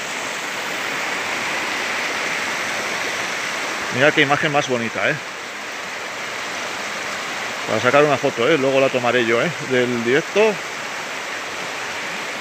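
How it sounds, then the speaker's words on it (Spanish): A river runs full and fast, giving a steady, broad rushing wash that fills the whole clip, while a person talks over it in two short stretches. "Mira, río de agua. Pues baja bien de agua"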